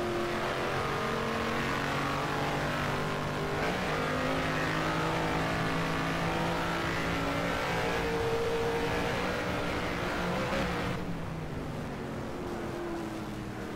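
A 1971 Can-Am race car engine at Mosport, a loud sustained roar with a steady high-revving drone that holds for several seconds before easing slightly near the end, with no talk.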